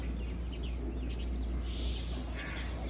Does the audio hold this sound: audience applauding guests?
no